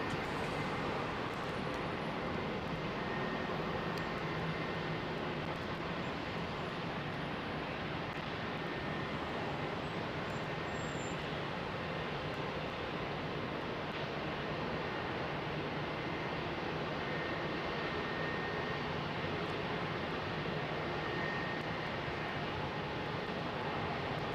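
A Boeing 747 freighter departs London Heathrow runway 27R with a long, steady, distant jet roar. The broad rumble holds evenly for over twenty seconds, with no talk.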